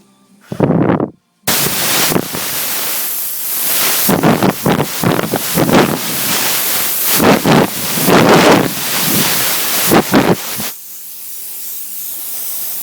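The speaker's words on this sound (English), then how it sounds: "All I'm doing is just blowing a little bit of air across it." A strong, steady rush of air from an airbrush blows across freshly sprayed paint on a Dodge Magnum, a brief puff first, then a long, gusty hiss close to the mic that cuts off abruptly into quiet.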